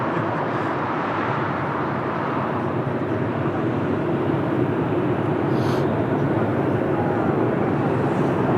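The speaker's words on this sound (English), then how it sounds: "And we have the BA, the Speedbird Airbus A320 Neo from Heathrow, London." A British Airways Airbus A320neo from London Heathrow at Lisbon Airport, a steady, broad engine roar that stays loud and unbroken, with a faint high whine near the middle.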